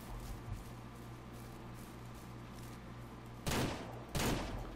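Two sharp, loud gunshots from a hunting rifle in Ranch Simulator crack about half a second apart near the end, after a stretch of quieter outdoor rumble with no talk.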